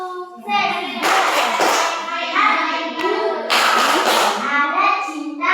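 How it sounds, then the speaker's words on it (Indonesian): A class of children performs the 'tepuk sukses' clap in a school classroom, with bursts of rhythmic group clapping mixed with children chanting together. "Tepuk sukses."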